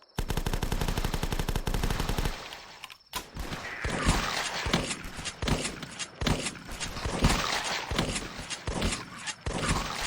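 Rapid gunfire in The Last Stand, a zombie flash game: a dense rattling burst of automatic fire, then heavier irregular shots and impacts repeating loudly throughout.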